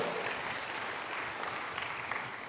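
Steady applause from a church congregation, a dense patter of many hands clapping that continues evenly for a couple of seconds, with no distinct voices.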